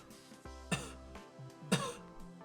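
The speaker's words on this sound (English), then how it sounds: "If you listen to my cough" Two weak, breathy coughs from a person with a spinal cord injury, about a second apart, fairly close and quiet, with a low hum in the background and no talking.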